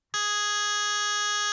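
A Serum synth patch built on a spectral electric guitar wavetable sounds one sustained, buzzy tone full of bright harmonics. It starts abruptly and holds steady and loud, with nothing else behind it.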